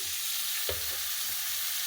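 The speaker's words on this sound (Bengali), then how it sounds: "আলু আর পটলটা ভাজা হয়ে গেছে।" Potato and pointed gourd frying in a pan, a steady low sizzle close by with one brief stirring knock, and no voices over it.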